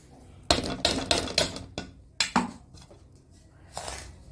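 Ground sugar tipped into a pan for rava laddu, heard as a run of sharp metallic clanks and scrapes of a spoon or container against the pan, fairly close and loud, with pauses between.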